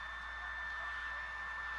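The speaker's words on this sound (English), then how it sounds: "Do you have a hair dryer going in the background?" A hair dryer runs steadily in the background behind a Division 2 gaming session, a continuous broadband whoosh with a faint whine, holding at even level throughout.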